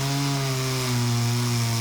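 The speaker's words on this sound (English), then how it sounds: "The sound of chainsaws chattered throughout the Summer Grove subdivision in Noonan for much of the day." A chainsaw cuts through storm-felled trees in a residential subdivision, its engine holding a loud, steady buzzing drone with a slight pitch dip partway through the brief stretch.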